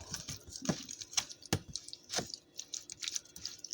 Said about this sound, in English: So you just stir it all up.